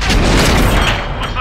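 A tank's main gun fires in World of Tanks, a loud, heavy boom whose broad rumble fills the whole short moment without easing off.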